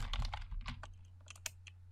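Quiet keystrokes on a computer keyboard: a quick burst of typing followed by a few sparse, isolated taps, with no speech.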